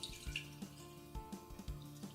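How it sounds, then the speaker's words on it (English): Cooking liquid is poured gently through a strainer into a mixing bowl, making a faint trickling and dripping with soft splashes, quiet and close, with no talking. "In another mixing bowl and a strainer, pour it gently."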